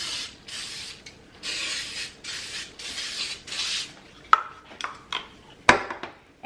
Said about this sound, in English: And I'm going to use this kind of canola spray